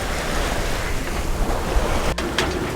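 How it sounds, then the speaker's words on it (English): Strong wind roars across a sailboat under way off Greece, a dense, rushing gust mixed with wave wash and microphone buffeting, loud and close, with no talking. "The wind just went nuts, right?"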